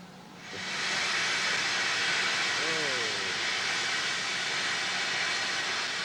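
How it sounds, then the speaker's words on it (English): A steam-hauled train on the preserved Whitby–Pickering railway swells into a loud, steady roar and hiss after a quieter start, with a short rising-and-falling tonal sound partway through. "Seeing a train steam hauled."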